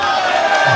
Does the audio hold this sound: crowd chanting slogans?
yes